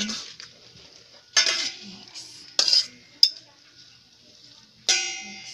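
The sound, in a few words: mixing palabok noodles with sauce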